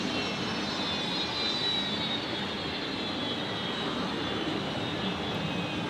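A Qantas jet airliner at Brisbane Airport produces a steady, loud, broadband engine roar with a high whine, continuous and close, no voices.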